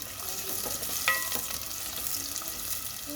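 Onion fries in a pan for Filipino chicken tinola, giving a steady, close sizzle with faint stirring scrapes and no voices.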